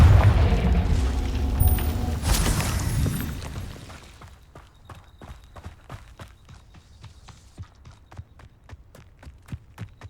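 In a Hogwarts Legacy game battle, Confringo blasting spells explode in heavy booming bursts over the first few seconds, then fade to a quieter run of evenly spaced footsteps or hoof-like thuds.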